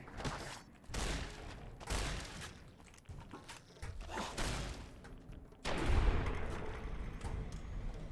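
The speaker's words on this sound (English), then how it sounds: "Okay, shotgun time. Where is my sturdy Caravan shotgun?" Sturdy Caravan shotgun blasts in Fallout: New Vegas, a series of heavy booming shots about a second apart, each with a sharp onset and a rumbling tail, the loudest blast near the end.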